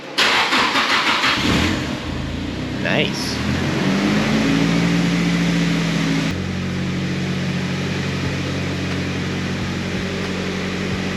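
Nissan Silvia S15 engine cranking briefly and firing up, then settling into a steady, loud idle close by, with a short spoken remark partway through.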